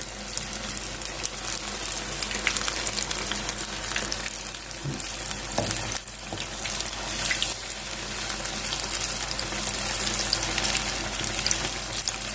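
Ripe jackfruit bulbs frying in oil, a continuous dense crackle and sizzle with occasional louder pops and stirring scrapes, close and steady throughout.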